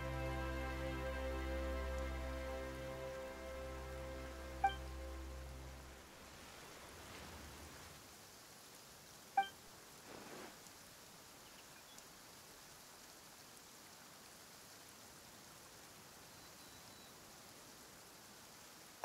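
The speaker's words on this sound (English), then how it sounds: "Why is it raining all of a sudden?" Rain in the video game Genshin Impact begins as a steady, soft hiss once the preceding music fades, then continues evenly at a low level to the end with no voices.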